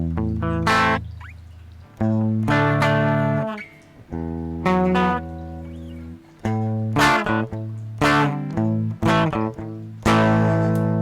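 An electric guitar is played through the dark twin amp model of a Valeton GP100 multi-effects unit, with clean sustained chords and notes struck one after another, each ringing out before the next.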